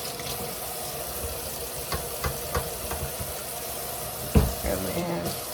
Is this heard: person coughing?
no